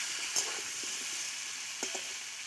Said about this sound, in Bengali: পটলগুলো খুব ভালো করে লাল লাল করে ভেজে নেব।